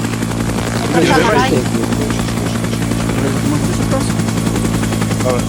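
Helicopter in the ArmA 3 military game, a steady, loud droning rotor and engine hum that persists throughout, with a voice briefly breaking in near the start.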